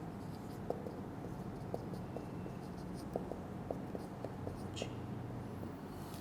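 A pen writes on a paper form, giving faint scratching strokes in short bursts with small taps, quiet against a steady room hiss.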